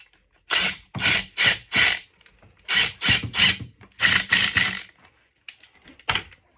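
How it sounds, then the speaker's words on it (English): A hose clamp is tightened on a drain valve, likely with a screwdriver or ratcheting tool. It gives a series of close, moderately loud rubbing and ratcheting bursts in short repeated strokes with brief pauses between them. "then you're going to tighten that last hose clamp"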